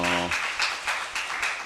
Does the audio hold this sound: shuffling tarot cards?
no